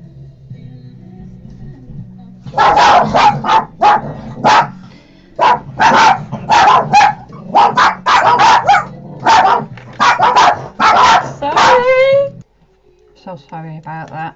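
French bulldogs bark loudly and close by in rapid bursts when someone comes to the door, a frantic run of barks for about ten seconds before a person starts talking.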